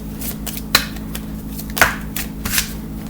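A deck of romance angel cards being shuffled by hand: soft riffling swishes with a few sharper slaps, spaced irregularly over a low steady background hum.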